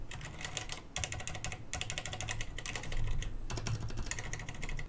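Typing on a Varmilo mechanical keyboard fitted with silent red switches, a steady close run of soft, muted keystrokes with brief pauses between bursts.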